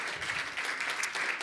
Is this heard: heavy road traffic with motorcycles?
no